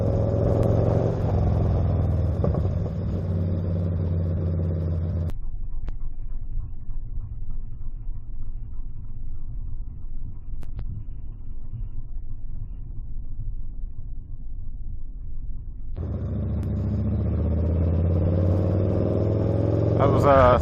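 A Honda CRF250 motorcycle with a Yoshimura exhaust roars nearby, then its drone drops to a distant, low rumble as it moves away and swells back loud near the end.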